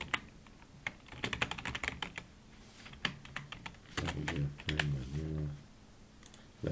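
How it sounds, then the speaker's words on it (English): Typing on a computer keyboard, quick bursts of close key clicks with short gaps, quiet overall, with a brief low murmur of voice partway through. "Let's type in anything here."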